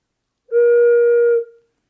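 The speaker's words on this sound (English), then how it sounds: "One is a wooden flute pipe that sounds like this." A single soft, hollow note from a wooden flute organ pipe sounds for about a second, steady and pure, then stops cleanly into silence.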